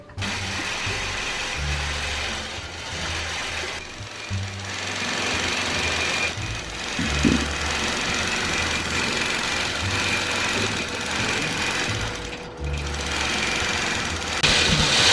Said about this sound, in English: You know how sewing machines have different speeds?